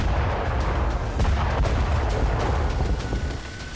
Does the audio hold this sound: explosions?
yes